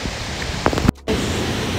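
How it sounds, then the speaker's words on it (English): A Costa Rican waterfall rushes in a constant hiss of falling water, broken by brief handling knocks and a momentary dropout partway through. "So we're getting to the waterfalls now."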